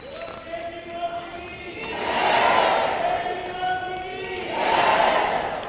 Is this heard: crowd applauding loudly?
yes